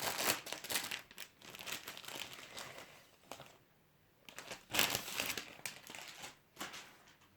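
Foil Panini UEFA Euro 2020 sticker packs being torn open and handled, giving repeated close crinkling and crumpling bursts separated by short quieter pauses.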